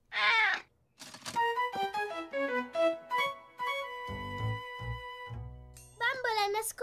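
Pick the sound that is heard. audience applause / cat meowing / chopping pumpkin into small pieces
cat meowing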